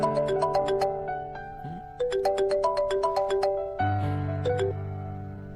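A mobile phone ringtone plays as a call is placed to a son, a bright melodic chime pattern repeated three times in quick phrases, clear and close with no talking.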